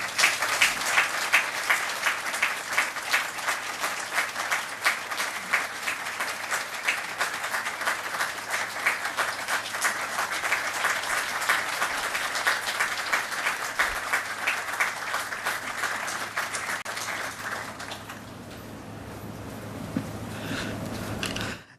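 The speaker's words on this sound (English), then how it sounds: "Please join me in a round of applause for Dr. Daniel" A crowd at an LGBTQ+ Pride event applauds an award recipient, dense sustained clapping lasting most of the stretch before fading to scattered claps near the end.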